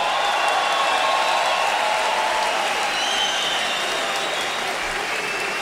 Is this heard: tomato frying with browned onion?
no